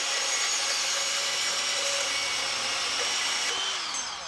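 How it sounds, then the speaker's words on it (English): A Hercules 20 volt cordless compact bandsaw runs steadily, a high whirring blade and motor hum held at a constant pitch for a few seconds before easing slightly at the end. "This is the 20 volt Hercules cordless compact bandsaw."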